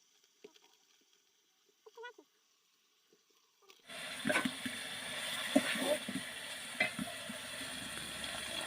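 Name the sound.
water poured into cooking meat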